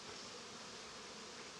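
Honey bees buzz as they fly up out of a bucket at an apiary, a faint, steady, hissy hum with no talking.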